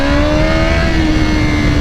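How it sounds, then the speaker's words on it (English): A 2025 Honda CBR1000RR-R SP sport motorcycle engine revving hard, its exhaust note rising in a loud, continuous snarl up close. "The exhaust opening up so wide now, it's so nice."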